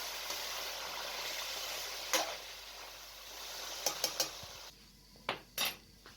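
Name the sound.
frying chicken with tomatoes in a karahi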